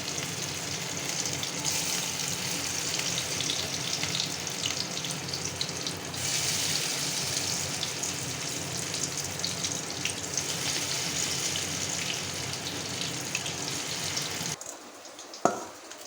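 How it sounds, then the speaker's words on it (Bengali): Boras (fritters) fry in hot oil for potol korma, giving a continuous bright hiss and sizzle that fills the scene at steady volume. The sizzle cuts off near the end, followed by a brief clatter. "বড়াগুলো যে এরকম ভেজে নেব"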